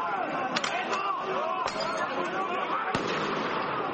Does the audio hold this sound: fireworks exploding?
yes